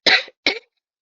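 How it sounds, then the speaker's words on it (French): Two quick coughs in succession, close and clear, the first slightly longer than the second, with silence after. "Pardon, je tousse."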